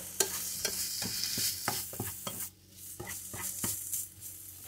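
Bacon pieces and meatballs fry in a pan, a loud crackling sizzle broken by repeated sharp scrapes and knocks of a utensil stirring, with one short dip in the hiss midway.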